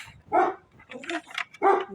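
A dog barks twice nearby, short and sharp, with some softer yelping sounds between the barks.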